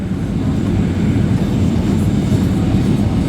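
Steady, loud broadband roar of an airliner on final approach to the runway, heard from inside the cockpit, a continuous low engine and airflow rumble without breaks.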